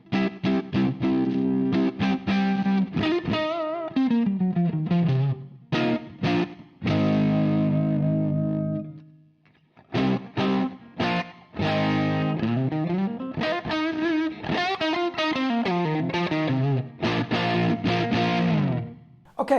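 An electric guitar played through a Sabbadius JIMI Fuzz v2 pedal, fuzz set high, plays thick, saturated chords and bending lead lines with brief gaps, loud and close.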